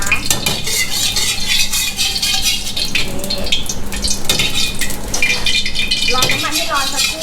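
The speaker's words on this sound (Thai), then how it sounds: "อันดับแรกเลยนะคะเราก็ใส่น้ำมันลงไปก่อนนะคะ" Oil going into a hot pan at a Thai street-food stall for stir-fried holy basil (pad kra pao), a busy clatter of metal utensils and pan rattling with faint sizzle, close and loud with talk mixed in.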